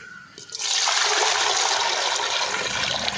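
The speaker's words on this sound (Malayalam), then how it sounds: "നമുക്ക് ഒരു അപ്പച്ചമ്പിലോട്ട് വെള്ളം ഒഴിക്കാം" After a quiet moment, water rushes steadily into a steamer pot, a loud continuous pouring splash that holds to the end.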